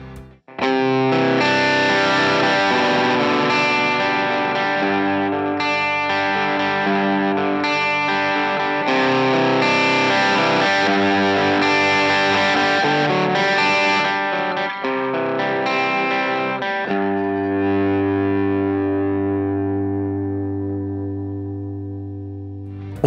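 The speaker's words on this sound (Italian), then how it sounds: "Ora attivo la distorsione." An electric guitar plays through a distortion pedal and a volume pedal. Sustained, heavily distorted chords and notes ring out loud and alone for over twenty seconds, then one chord swells and slowly fades away.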